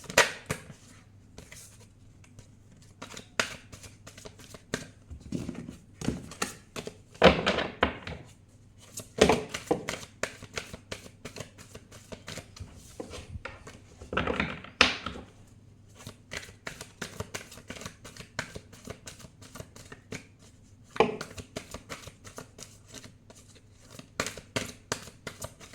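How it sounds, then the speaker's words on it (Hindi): Tarot cards being shuffled by hand, with repeated quick riffling and flicking bursts at an irregular rhythm, close and fairly quiet, and no talking. "हमेशा की तरह पहले हम 3 बार शफल कर लेते हैं गाइस।"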